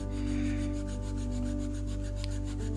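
An eraser rubs steadily across paper, wiping out pencil lines laid down with a soft B or 2B pencil and pressed on fairly hard; a continuous close, dry scrubbing with a soft back-and-forth rhythm, heard alone.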